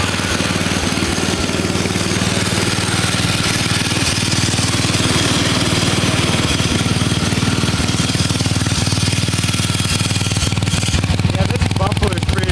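A 1966 Bolens 1050 garden tractor engine idles low and steady throughout, a loud continuous mechanical drone with a fine rhythmic chug and some vibration, close by.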